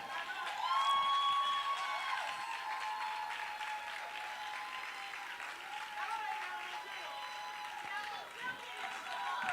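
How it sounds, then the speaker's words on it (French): A church congregation applauds and cheers together in a long, steady wash of clapping with scattered voices, moderately distant and sustained throughout, with a little speech mixed in. "Acclamons le Seigneur."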